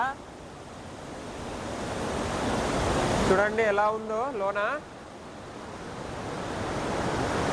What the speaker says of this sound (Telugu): ఫుల్ వాటర్ సౌండ్తో వినడానికి అయితే చాలా భయంగా ఉంది